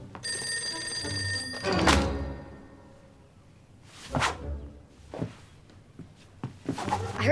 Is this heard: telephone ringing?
yes